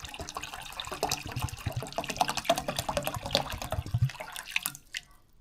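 Tap water runs into a cooking pot while making Trinidad sorrel, a steady splashing, gurgling stream close by that continues throughout and tapers off at the end.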